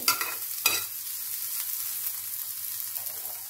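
Bitter gourd stir-frying and browning in a pan: a continuous close sizzle with a couple of brief scraping stirs near the start, no voices over it.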